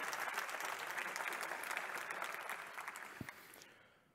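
Sustained applause from a conference audience in Frankfurt, a thick even patter of many hands that gradually tapers off and dies away at the end.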